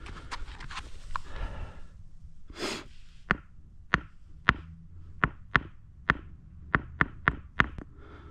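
Sharp knocks on a regular rock in Sedona, about a dozen dry clicks spaced roughly half a second apart, close and fairly loud over faint outdoor rustle, after a softer scuffing start.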